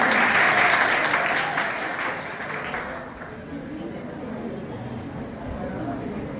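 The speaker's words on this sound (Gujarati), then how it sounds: "જોરદાર તાળીઓથી વધાવો" Parents at a school parent meeting burst into loud applause, dense clapping that peaks at the start and then fades to a lighter patter and crowd murmur.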